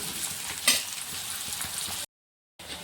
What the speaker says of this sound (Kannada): ಈರುಳ್ಳಿ ಒಟ್ಟಿಗೆ ನಾನು ಕರಿಬೇವು ಕೂಡ ತಿರ್ಸಕತ್ತೀನಿ